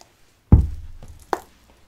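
A tarot deck is cut on a table in a couple of soft, thudding card slaps, the first louder with a brief shuffle-like rustle trailing it, close and alone without talk.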